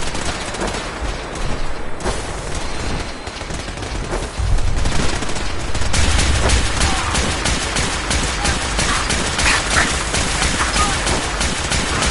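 Sustained rapid gunfire from automated turrets in Fallout 4, a dense rattling barrage that grows louder and busier after the first few seconds and keeps firing steadily to the end.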